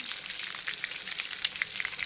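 Steady crackling sizzle of rolls deep-frying in hot oil, dense bubbling pops, moderately loud and close.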